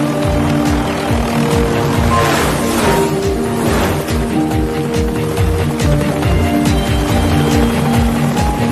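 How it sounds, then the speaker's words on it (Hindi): A helicopter flies in an animated cartoon, a loud continuous rotor thrum with a rapid pulsing beat and a broad engine roar that stays constant throughout. "हेलीकॉप्टर को स्लो कर दीजिए।"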